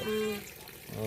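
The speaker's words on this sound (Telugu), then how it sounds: "అదే కంటిన్యూస్గా వస్తూనే ఉంటుంది వాటర్." Spring water runs continuously down from a hillside beside a small tribal village, a faint steady wash with voices briefly at the start and end.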